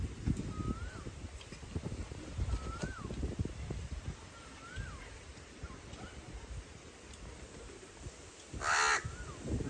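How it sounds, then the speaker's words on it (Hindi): Several crows caw in short, separate calls spread across the recording, fairly close, over a steady low outdoor rumble, with a brief louder burst of noise near the end. "डर लागे कौवा सबके"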